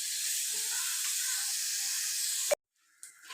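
Crushed ginger and garlic sauté in hot oil in a pan for a Kerala-style sardine curry, a steady close sizzling hiss that cuts off abruptly near the end, followed by faint handling noise.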